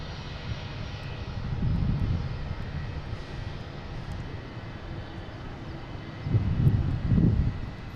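An American Airlines Boeing 737-800 jet airliner arriving at Boston Logan airport gives a continuous low engine roar that swells in waves, with a deeper surge near the end, heard from a distance.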